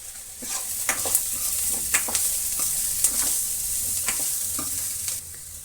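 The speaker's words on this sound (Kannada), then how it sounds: "ಈಗ ಕಾಲು ಸ್ಪೂನು ಅರಿಶಿಣವನ್ನು ಸೇರಿಸ್ತಾ ಇದ್ದೀನಿ" Sliced onions with turmeric fry in a pan for sambar, giving a steady close sizzle with repeated scraping stirs and light clinks, and no talk.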